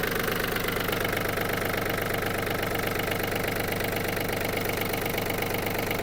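A Yanmar F-200 mini tractor's diesel engine idles steadily nearby, a loud, even knocking chug with constant vibration and no change in pace.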